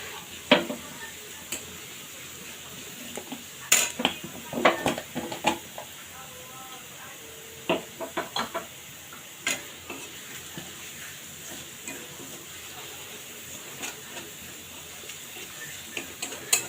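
Whole cumin seeds tempered in hot oil for a beef curry, a steady soft sizzle underneath while a utensil stirs and taps against the pan in irregular clusters of clicks, close by.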